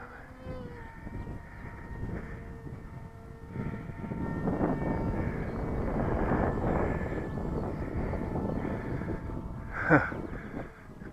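A model airplane flies overhead, its engine droning steadily and swelling as it climbs, with a brief louder pass near the end; a person exclaims faintly in the background.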